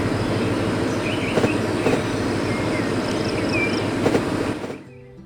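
Train rolling along in the video game Train World, a steady rumbling clatter with faint squeals and clicks that cuts off abruptly near the end.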